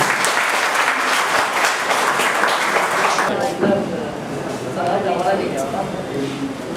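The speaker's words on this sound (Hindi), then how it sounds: "उनके नाम पर जो ताली बनाइए।" Sustained applause from a crowd at a Guhraj Nishad birth anniversary event fills the room, steady and dense, with a voice audible faintly underneath as the clapping eases slightly.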